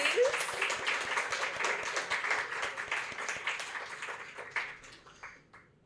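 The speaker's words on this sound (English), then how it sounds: "round of applause" Audience applause after a performance at a poetry event, a small room's crowd clapping densely at first and then thinning out into scattered claps toward the end, with a voice briefly over it.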